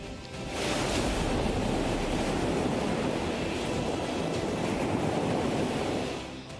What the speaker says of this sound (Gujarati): રણાક વિસ્તારમાં વહ્યો પાણીનો પ્રચંડ પ્રવાહ